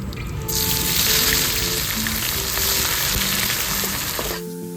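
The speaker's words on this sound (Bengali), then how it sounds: "দিয়ে নিচ্ছি কেটে রাখা পেঁয়াজ" Chopped onions hit hot oil already spiced with bay leaf, whole cumin and dried red chillies in a kadai, bursting into a loud, steady sizzle that continues for a few seconds before cutting off.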